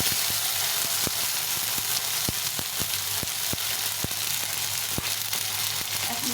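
Ground ginger, cumin and chili paste sizzles steadily in hot oil for a potato curry (aloo dum), a dense frying hiss with scattered sharp crackles and pops throughout, close and fairly loud with no talking.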